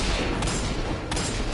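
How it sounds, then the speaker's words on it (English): Hand cannon fire in Destiny 2, heard as two sharp, loud reports about a second apart over dense, continuous game noise and effects. "Hand cannon."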